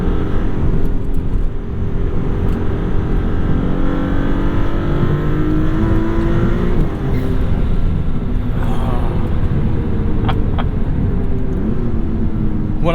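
A 2022 Maserati MC20 engine revving loud and close, a sustained roar with rising and falling pitch sweeps as the revs climb and drop over several seconds.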